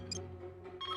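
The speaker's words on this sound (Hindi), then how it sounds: "ग्वेन से कॉन्फ्रेंस कॉल करता हूँ।" A phone rings in a Ben 10 cartoon as a conference call is placed, giving short electronic ringtone bursts at the start and again near the end, close and fairly loud over a faint background.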